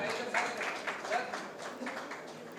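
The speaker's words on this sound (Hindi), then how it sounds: "गुल्लू भाई के लिए बहुत सारी तालियां होनी चाहिए" An audience at a tribute event for Pakistani comedy legends applauds in a dense, steady patter of clapping lasting a few seconds, with a voice carrying over it.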